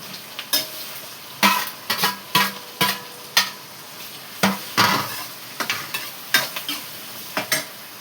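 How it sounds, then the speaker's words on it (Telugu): Onions fry in a pan under a soft constant sizzle, broken by a dozen sharp rhythmic stirring scrapes of a utensil against the pan. "ఆనియన్స్ వేగుతున్నాయి"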